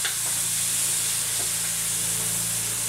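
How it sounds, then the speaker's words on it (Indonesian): Garlic, shallots, ginger and chili sautéing in a pan, a loud, even hissing sizzle filling the clip with a couple of faint stirring taps, no voices. "Kita tumis."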